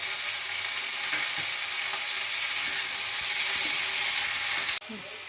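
Vegetables for tomato chutney sauté in a pan with a loud, continuous close sizzle and occasional stirring scrapes, the hiss dropping suddenly near the end.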